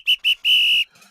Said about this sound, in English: Someone go ahead and blow the whistle.